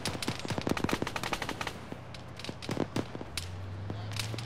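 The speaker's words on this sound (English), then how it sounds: "Getting shot at." Rapid bursts of automatic gunfire and single shots crack in an Arma firefight, sharp and close in the first half, then sparser bangs over a low engine-like hum.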